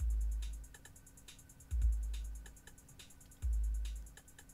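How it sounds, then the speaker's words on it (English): A simple electronic drum beat, the default sample beat in a Tesla's in-car beat maker, repeats: booming low kicks about every two seconds with light ticking hats and claps in between, quiet overall. "This is the default or sample beat that's in here"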